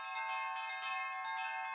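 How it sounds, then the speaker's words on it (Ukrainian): Church bells ring at midnight on Christmas Eve in a snowy winter night scene, a bright, sustained metallic chime that rings on steadily for the whole short span. "на церкві задзвонили дзвони"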